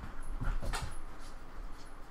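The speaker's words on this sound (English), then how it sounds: "The dog is being a distraction like usual" A dog whimpers softly in a few faint, thin whines over quiet room noise, with no talking.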